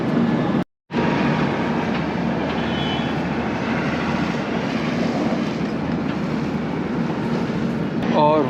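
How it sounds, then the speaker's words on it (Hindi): Avadh Assam Express train at platform 3 of Dimapur railway station, a steady broadband rumble and rolling clatter that fills the whole stretch, with a brief cutout near the start and no speech. "दीमापुर रेलवे स्टेशन का प्लेटफॉर्म नंबर 1 और हमारी ट्रेन आई है प्लेटफॉर्म नंबर"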